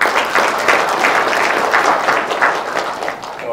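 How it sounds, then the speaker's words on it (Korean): A crowd applauds at a Korean press conference denouncing a court ruling, a dense continuous patter of many hands clapping close by for several seconds without a break. "자리는 없지만은 또 같이 박수를 보내줍니다."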